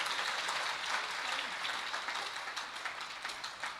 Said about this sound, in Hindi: अब बजाओ आप अच्छे से ताली।